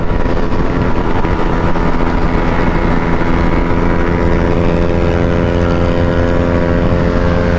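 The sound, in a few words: motorcycle engine hitting the rev limiter during drag race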